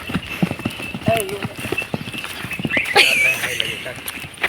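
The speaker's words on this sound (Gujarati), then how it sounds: "હવે તમને ઘોડી હલાવીને ઈ દેખાડશે" A mare's hooves clip-clop in a steady walking rhythm on farm ground, close and clear, with someone talking over the footfalls and a brief whinny-like sound partway through.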